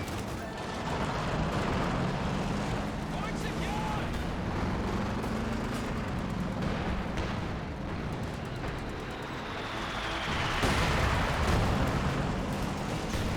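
A white phosphorus artillery strike in the video game Company of Heroes 2: a sustained roaring, crackling barrage with scattered bursts, swelling louder near the end, under a low steady battle rumble.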